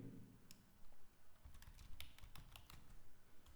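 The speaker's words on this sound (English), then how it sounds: "Now you type some contents here, like in this way" Fast, light clicking from a computer keyboard as text is typed into a Notepad file, quiet and close with irregular bursts of keystrokes and no voices.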